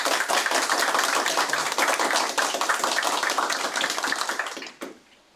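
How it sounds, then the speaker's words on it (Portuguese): Meeting participants at a city council election gathering applaud the newly elected members. The clapping is dense and close, holds steady for about four seconds, then thins out and stops. "vamos aplaudir os eleitos, né?"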